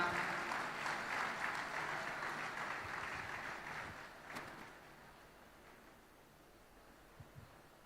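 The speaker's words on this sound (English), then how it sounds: "Can we have a huge round of applause for ma'am?" Applause from the audience at a research, innovation, design and entrepreneurship event, welcoming a guest speaker; steady dense clapping that fades out over the first five seconds, leaving a quiet room with a couple of faint knocks.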